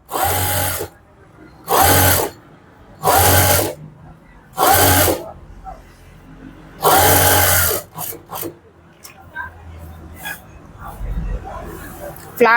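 A sewing machine stitches around the edge of a puff sleeve in several short, loud bursts with pauses between them, then shorter stops and starts as talk continues.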